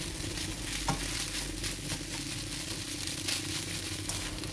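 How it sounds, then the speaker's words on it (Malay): Mackerel fried rice (nasi goreng ikan kembung) sizzles steadily in a pan while a utensil stirs and scrapes through it, with continuous frying crackle and occasional spatula knocks, close and fairly quiet. "Terus dikacau-kacau lagi sehingga sebati."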